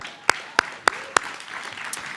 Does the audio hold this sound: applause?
yes